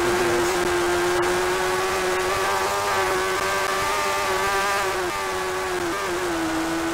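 Suzuki superbike engine from the TAS Suzuki in the PS2 racing game TT Superbikes (2005), a steady, loud buzzing whine held at a nearly constant pitch, with a couple of slight dips late on, no talking.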